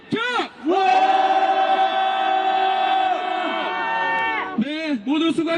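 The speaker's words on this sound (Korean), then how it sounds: "트럼프 방안 규탄의 함성 시작!" A protest crowd rallying against Trump in South Korea lets out a long, loud sustained roar of shouting voices, starting after a single call and ending with scattered whoops, close and full.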